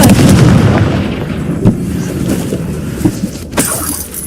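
Confringo blasting spell in the Hogwarts Legacy video game: a loud, booming burst with a crackling, shattering tail, followed by a few scattered smaller impacts and debris-like cracks.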